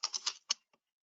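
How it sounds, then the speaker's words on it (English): A few quick keystrokes on a computer keyboard, four or five crisp clicks in a short burst and then a faint final tap, close and isolated. "So I can come in here and type again."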